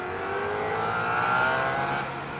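Race cars on track at a 1980 SCCA race, an engine roaring as it passes, with the revving note rising to a peak and then easing away over about two seconds, loud and without talk.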